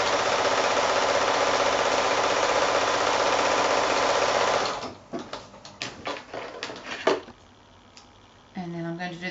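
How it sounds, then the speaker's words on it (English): A sewing machine stitches a seam a quarter inch from a fold in quilting fabric, a steady loud mechanical whir for several seconds, then brief stop-start bursts and soft handling sounds. "I'm going to sew a seam line along 1/4 inch away from the fold"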